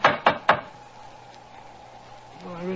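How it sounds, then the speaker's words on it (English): A heavy door knocker on an old door strikes three loud, sharp blows in quick succession. A low hum lingers after the blows, and a voice begins faintly at the end. "Let's try the knocker."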